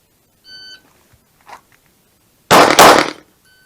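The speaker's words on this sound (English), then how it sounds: "2 shots to the head, and we have 3 seconds with a draw." Two pistol shots fired in quick succession after a draw from a timer start beep, loud and close, coming after a short electronic beep and some faint handling noise.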